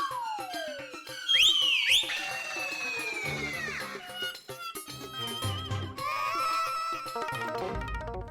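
Whistling calls out in short rising and falling tones, trilling near the start and then sliding in pitch, fairly loud and close against a busy household scene with scattered background noise.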